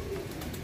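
Tippler pigeons coo in a brief, low, soft murmur set against steady background noise.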